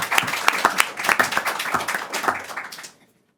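Applause breaks out in a municipal council chamber, a small group clapping in sharp, uneven bursts for about three seconds before stopping abruptly into silence.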